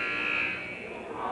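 A buzzer sounds at a basketball game between the Sixers and Celtics, a steady sustained electronic tone that holds for over a second amid arena noise.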